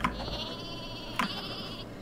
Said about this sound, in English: Sheep on a rope.